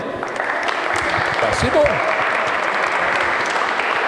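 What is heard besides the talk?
thunderous applause at telethon launch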